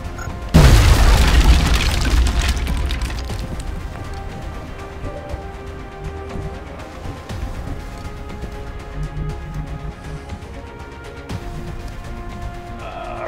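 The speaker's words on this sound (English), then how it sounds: "Grenade out." A grenade going off in XCOM Long War: one sudden heavy boom, then a long rumbling decay that fades into low background noise.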